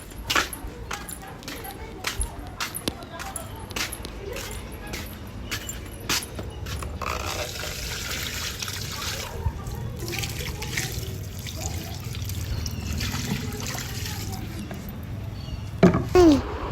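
Water poured onto potted plants splashes and trickles steadily, close by, after a run of sharp taps and knocks at the start, with a few faint voices in the background.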